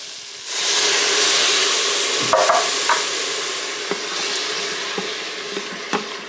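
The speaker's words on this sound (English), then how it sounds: "You get some of the deglazing on the bottom of the pan so everything's not sticking and burning" Stock poured into a hot pan for Cuban black beans with bay leaves hisses and sizzles loudly and steadily as it deglazes the bottom, with a few light clinks and scrapes of stirring near the end.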